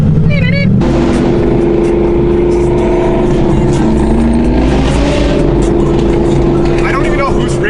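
Performance cars, including Cadillac CTS-V and ATS-V sedans, a Camaro SS 1LE and a Mustang Mach 1, accelerate hard on a city street. Loud, roaring engine notes build and layer over one another, with people talking excitedly throughout.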